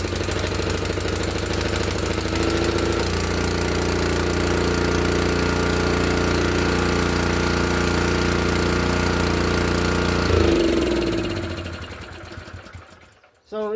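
A Honda snowblower's small engine runs loud and rattling close by for about ten seconds, then revs, sputters and winds down to a stop.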